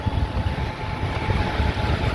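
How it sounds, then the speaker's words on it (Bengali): An airplane passes overhead outdoors, heard as a low, steady broadband roar mixed with wind buffeting the microphone, fairly loud throughout the short stretch, with no voices. "কি সুন্দর একটা প্লেন যাচ্ছে আমাদের মাথার উপর দিয়ে"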